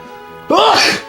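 One sudden loud sneeze from a man close by, bursting out after a quiet moment and trailing off within a fraction of a second.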